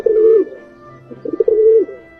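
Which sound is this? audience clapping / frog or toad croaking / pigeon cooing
pigeon cooing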